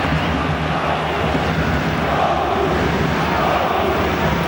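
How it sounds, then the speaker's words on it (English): A big stadium crowd at a Champions League football match between Borussia Dortmund and Arsenal roars in a dense, continuous wall of noise with no break. "that effort has certainly inspired the crowd because they've gone up a gear a little, with their sound"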